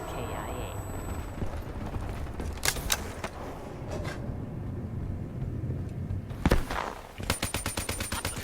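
Gunfire in the Call of Duty Black Ops 3 video game, scattered sharp shots and then a fast automatic burst near the end, under a busy game soundscape with a voice talking.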